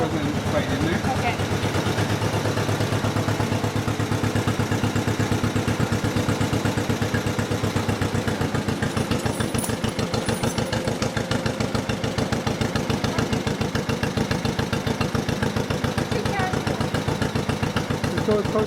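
A farm tractor's engine runs steadily at idle throughout, a constant low mechanical chug with fast regular firing pulses, fairly close and loud.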